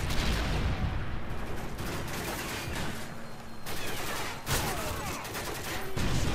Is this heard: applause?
no